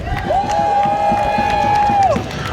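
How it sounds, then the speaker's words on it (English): Crowd at an outdoor veterans' rally in Washington DC applauding and cheering, a loud mass of claps and shouts under a long sustained whistle-like tone, with voices mixed into the din. "give yourself a round of applause"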